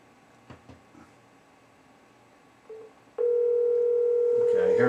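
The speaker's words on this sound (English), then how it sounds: "we can just dial straight." A continuous telephone dial tone comes from an Ojo video phone on VoX phone service, starting abruptly partway through after a few quiet clicks and staying loud and steady to the end.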